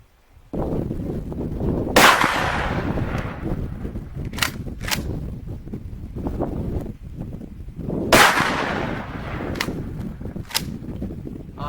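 A shotgun loaded with 1-ounce slugs fires twice at jugs set far downrange at 245 yards, each shot a loud, sharp blast with a rolling tail, the two about six seconds apart, followed by fainter cracks.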